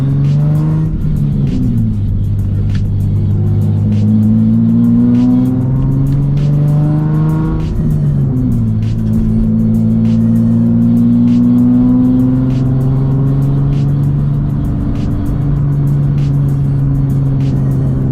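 Nissan 350Z with a full HKS exhaust accelerating hard from inside the car, its engine note rising and falling through repeated gear changes, loud and continuous with no talking.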